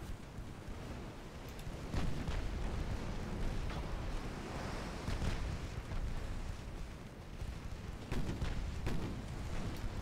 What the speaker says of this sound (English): When two of them explode.